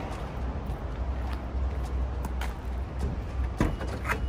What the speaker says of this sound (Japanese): パワースライドドアなんで自動で開きます